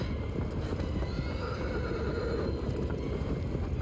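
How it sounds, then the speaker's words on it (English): A horse in the video game Shadow of the Colossus whinnies loudly amid a constant rumble of galloping hooves and low ambient noise, the neigh rising clearly above the steady drumming. "Horse."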